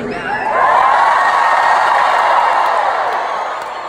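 A concert crowd in Connecticut cheers and whoops loudly, the roar swelling within the first second, holding strong, then easing slightly toward the end, with scattered claps mixed in.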